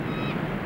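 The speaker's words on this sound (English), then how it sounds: "a gull came with the first sign of the run" A gull calls near the shore with a nasal, honking cry held close and loud across a brief moment, over steady broadband background noise.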